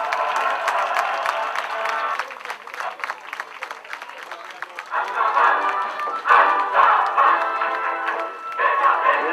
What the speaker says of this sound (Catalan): L'aplaudiment del públic als nostres jugadors.